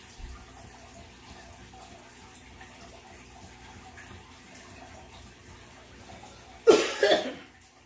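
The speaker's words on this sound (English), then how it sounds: "She's dying in there with that hacking cough." After a stretch of quiet background noise, a person lets out a harsh hacking cough in two quick bursts near the end.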